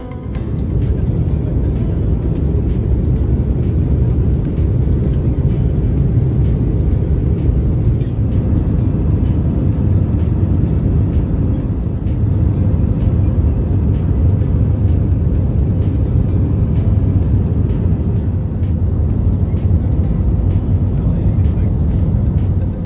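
Airplane landing at Maldives airport on a Coimbatore to Male flight, a loud steady low rumble of engines and rolling wheels heard from inside the cabin for the whole stretch, with faint voices beneath.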